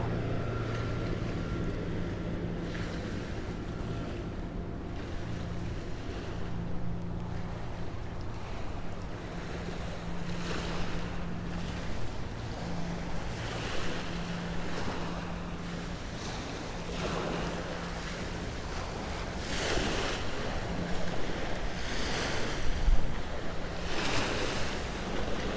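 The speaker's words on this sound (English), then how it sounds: "Boat." A boat on ocean water off Hollywood, Florida, with continuous surf washing and wind rushing across the microphone, rising in intermittent swells over a steady background.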